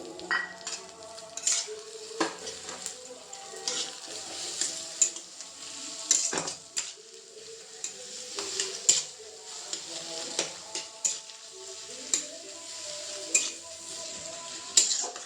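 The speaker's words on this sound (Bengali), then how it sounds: "এটাকে ভালো করে ভাজতে হবে একটু।" Chow mein stir-fried with ground black pepper in a home kitchen pan: steady frying sizzle under repeated scraping and clinking of a utensil against the pan, close and continuous, with no talking.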